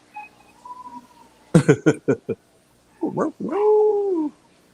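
A nearby dog gives a quick run of sharp yips, then a pause, then a wavering, drawn-out howl that rises and falls before cutting off.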